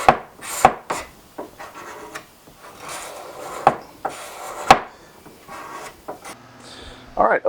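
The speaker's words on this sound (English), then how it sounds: "And then here I'm just scraping the sides." A hand scraper shaves guitar binding flat along the body sides of an Elysium Firehawk build, with repeated short rasping strokes and sharp wooden scrapes, close up. Occasional brief knocks break up the scraping.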